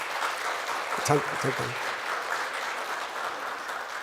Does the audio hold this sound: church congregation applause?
yes